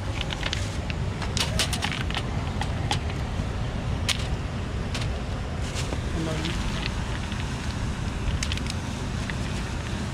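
A wood fire burns outdoors beneath a row of stones being heated to fry fish at a fishing spot, giving steady crackling and sharp pops over a constant rushing, wind-like background.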